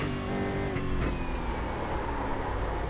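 A Toyota Corolla stock car engine drones steadily in iRacing, a continuous moderately loud engine note with a couple of brief shifts or blips.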